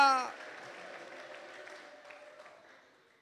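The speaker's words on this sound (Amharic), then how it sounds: "እልልታ ጭብጨባ ለእግዚአብሔር ቃል ያምጣ" A voice speaks over a crowd's applause, then the clapping and a high, wavering ululation carry on and fade out.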